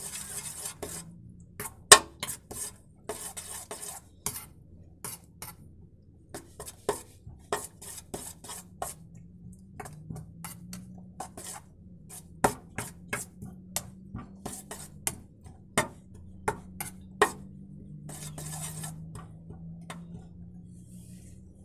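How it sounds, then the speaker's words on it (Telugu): Eggs being mixed in a bowl: a utensil clinks and scrapes against the sides in an irregular rhythm of sharp taps, close and fairly quiet, with no talking. "ఇప్పుడు వీటిని మనం మిక్స్ చేద్దాం."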